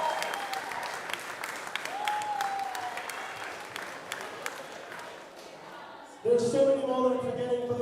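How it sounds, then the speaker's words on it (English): At a youth team championship event, the audience applauds the coaches, with steady clapping through most of the stretch and a louder burst near the end, while a voice talks over the applause. "A round of applause to your coaches."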